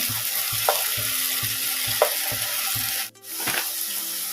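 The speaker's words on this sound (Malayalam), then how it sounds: "അതൊന്ന് ചെറുതായിട്ടൊന്ന് ഇങ്ങനെ ഫ്രൈ ചെയ്ത് എടുക്കാം." Mushrooms frying in oil in a pan for a cashew mushroom masala, a steady close sizzle with a rhythmic series of low knocks and brief spoon scrapes, then a short dip before the hiss resumes.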